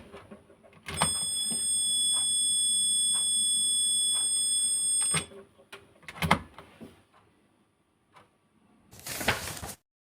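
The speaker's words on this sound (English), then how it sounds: "The buzzer alarm is tested. When the power plug is incorrectly inserted, it emits an audible sound." Buzzer alarm of a 1945–1946 Hallicrafters Sky Rider Jr. S-41G radio, sounding when the power plug is inserted incorrectly: a steady tonal buzz lasting about four seconds, followed by scattered clicks and short noise bursts.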